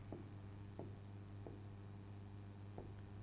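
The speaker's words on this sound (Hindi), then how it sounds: "तो यहां पर मैं लास्ट में अभी लिख रहा हूं" Pen writing an answer while working through an electrochemistry chemistry problem, a few soft scratchy strokes at irregular intervals over a steady low electrical hum, with no talking.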